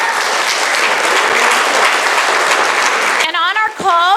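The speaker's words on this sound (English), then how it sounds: "so applause to Willie" Loud, close applause from an audience at a camp gathering, continuous clapping for about three seconds before a voice begins speaking over the last of it.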